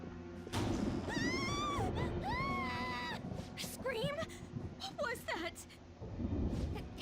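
A scream in the video game Persona 5 rising in wavering high cries amid crashing, thumping game noise, with loud rumbling underneath and a voice talking over parts of it.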